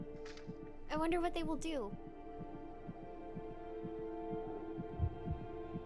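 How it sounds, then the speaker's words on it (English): A fast heartbeat of an unborn baby in the womb pulses in a quick, steady rhythm of soft low thumps, with a short spoken phrase heard over the opening beats before they continue alone. "My heart is beating so fast."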